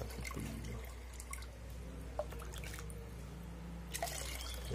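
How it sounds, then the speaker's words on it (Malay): Water is changed in a fish tank with quiet trickling and dripping, a low steady flow marked by a few small splashes, faint and without talk. "Ini proses penggantian air ya teman-teman"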